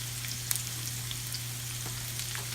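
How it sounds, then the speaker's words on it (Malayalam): Shallots fry in a pan for a country-style chicken curry, a soft even sizzle with scattered pops over a steady low hum. "ഇനി ഈ ചെറിയ ഉള്ളി നല്ലൊരു ബ്രൗൺ കളറായി വരും"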